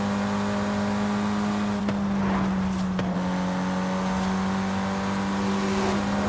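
Car engine in Forza Horizon 5 pulling hard in fifth gear at around 100 mph, a steady droning tone holding with slight pitch shifts and a couple of brief clunks, loud and continuous throughout.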